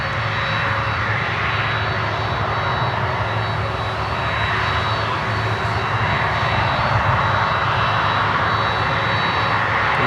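Aeromexico airliner on approach, its jet engines giving a loud, steady roar that holds throughout with no voices over it.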